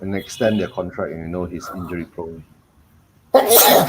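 A single sharp sneeze bursts out after someone speaks and then goes quiet, loud and close.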